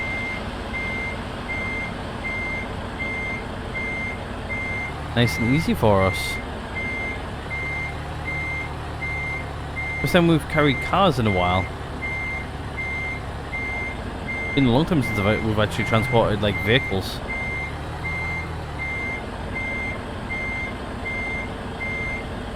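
A truck's steady, evenly spaced reversing beeps in Euro Truck Simulator 2 continue throughout as it backs up with a car-transporter load, under a low engine hum and intermittent talking.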